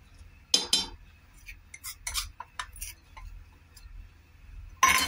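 Metal spoon clinking against a pot while stirring milk and dry fruit powder for kulfi, a few separate scrapes and taps with quiet gaps between, ending in a louder clatter.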